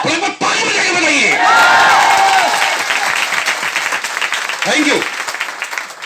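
A large audience at an RCM business seminar bursts into loud, sustained clapping mixed with cheers and whoops, close and dense, while someone briefly speaks over it.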